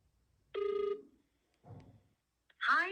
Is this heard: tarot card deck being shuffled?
no